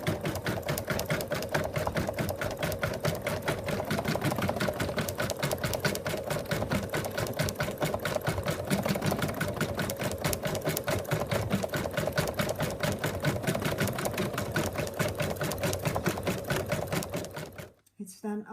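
An embroidery machine sews a decorative stitch around an appliqué, making a loud, even, rapid needle chatter with a mechanical hum that runs steadily up close and stops abruptly near the end.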